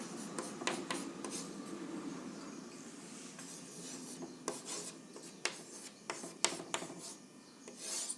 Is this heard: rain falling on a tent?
no